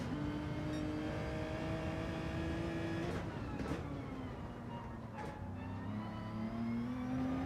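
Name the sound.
race car engine starting a lap, from a racing video game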